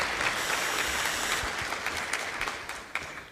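Applause rises in a parliamentary chamber during a session honouring wartime expeditionaries, a steady, fairly soft wash of clapping from the floor with no voices over it.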